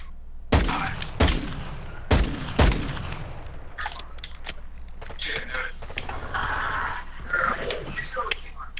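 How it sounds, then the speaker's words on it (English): Gunfire in Call of Duty: Modern Warfare II, four sharp reports in the first three seconds, then a denser scatter of fainter distant shots and battlefield noise with voices underneath. "We got distant shots."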